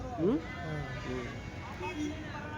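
Sheep bleat a few times, short wavering cries among a murmur of people talking nearby at an outdoor sheep and goat market in Kadiri.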